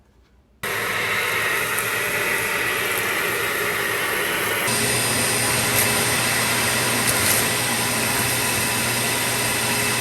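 A DeWalt DXV06G shop vacuum switches on and runs loudly and steadily, a close, even roar with a high whine that continues without pause.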